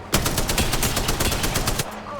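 Rapid automatic weapon fire in Apex Legends, a loud, dense burst of evenly spaced shots lasting about two seconds before stopping abruptly.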